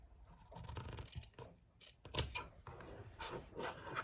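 Scissors cut through printed fabric for a face mask, close and very quiet, with short rasping snips and rubbing noises coming in irregular bursts, no talk.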